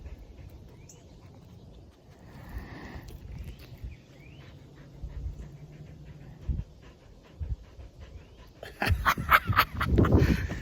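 A dog pants and moves about close by over a low room-like background, with a louder burst of rustling and breathing near the end.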